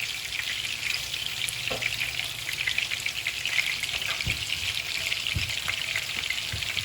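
Diced onions fry in hot olive oil with a lively, crackling sizzle, steady throughout, with a few soft knocks and clinks from the pan now and then.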